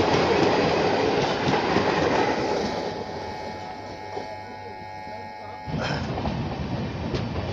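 Janaki Express train runs through a station without stopping, a loud continuous rumble and clatter of wheels close by, quieting and then swelling again near the end, with voices talking over it.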